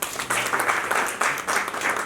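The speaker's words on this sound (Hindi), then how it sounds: "ताली दीजिएगा" Applause from an audience at a film mahurat and poster launch event, a steady wash of many hands clapping with surges in intensity, loud and continuous throughout.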